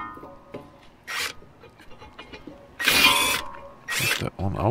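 A wrench turning a brake caliper adapter bolt on a 2013 Jeep Grand Cherokee, rasping ratchet and metal scraping bursts at intervals, close up, with a voice talking between them.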